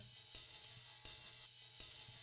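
Jazzy drum-and-bass percussion layer: a tambourine with ride and crash cymbals playing together, bright shimmering hits recurring in a steady rhythm with a low bass pulse underneath.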